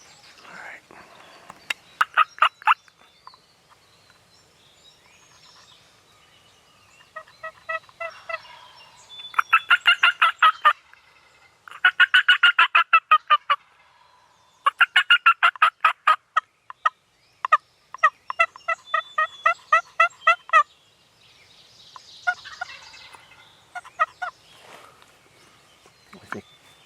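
Loud wild turkey gobbles ring out in repeated bursts, rapid rattling calls spaced several seconds apart with quiet stretches between them, during a spring gobbler hunt.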